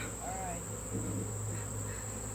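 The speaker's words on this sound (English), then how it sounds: "I just ticked a lot of bees off. They are not happy with me." Angry honey bees swarm during a honey harvest, making a steady, dense buzzing drone close by that runs throughout with a high whine above it.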